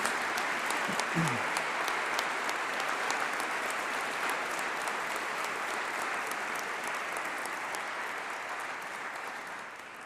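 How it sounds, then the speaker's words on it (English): Graduation ceremony audience in a great hall applauding, a long dense round of clapping that holds steady and slowly fades toward the end, with a brief voice near the start. "put your hands together and give a round of applause for the support"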